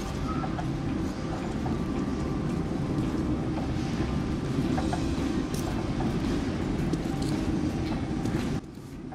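A metro train in the post-apocalyptic shooter Metro 2033 Redux rumbles along rails with a steady, dense low clatter and drone that runs throughout before dropping slightly at the end.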